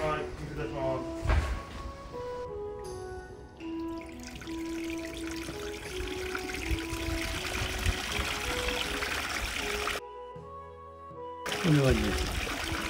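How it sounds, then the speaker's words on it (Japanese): A newly built Japanese garden waterfall is switched on. Water pours and trickles steadily at close range while people talk over it, with brief quiet gaps and a few clicks. "あちらの一番右側が滝口からダーって流れて"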